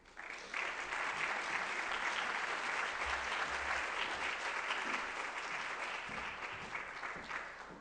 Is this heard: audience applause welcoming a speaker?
yes